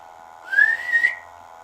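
A single clear whistle inside Fort Paull in Hull, UK, rising in pitch and holding briefly, loud and close, alone against a quiet background.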